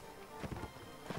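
Hooves of a galloping horse in the video game Mount and Blade: Warband thud in quick, soft clusters, faint and brief against a dull background.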